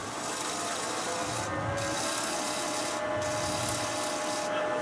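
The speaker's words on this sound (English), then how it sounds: "If you hit it with a little bit of sandpaper, it'll probably come right off." Sandpaper rubbing against a freshly cut wooden bowl turning on a lathe, a steady, loud, continuous abrasive hiss with brief drops as the paper lifts off the wood, no talking.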